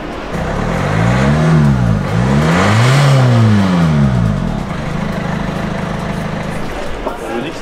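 A car engine is revved hard near the exhaust pipe in three rising and falling sweeps, then settles into a steady, throaty idle that fades near the end.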